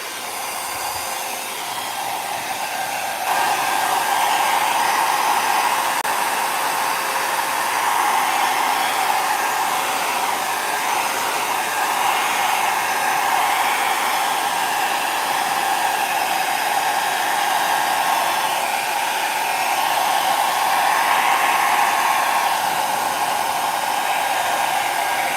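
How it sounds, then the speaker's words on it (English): A handheld blow dryer runs continuously while drying a pastel painting, a loud, steady whooshing roar that kicks up to full power after a few seconds and holds alone without talk. "And let's get my blow dryer out here."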